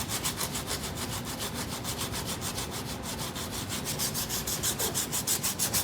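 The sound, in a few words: sanding and stripping motorcycle parts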